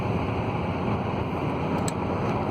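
A 2006 Pontiac Vibe engine idles outdoors in cold weather, giving a steady, close, unbroken rumble with a windy hiss layered over it and no voices.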